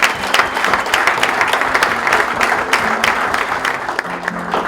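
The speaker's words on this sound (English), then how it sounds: "So let's give him a round of applause." Sustained applause from a crowd, dense steady clapping that fills the whole stretch without a break.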